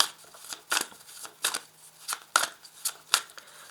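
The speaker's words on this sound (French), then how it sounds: "Donc je vais ajouter les cartes ici." Tarot cards are laid out one by one on a surface, making about six soft, papery swishes and slaps at a fairly steady pace in a quiet room.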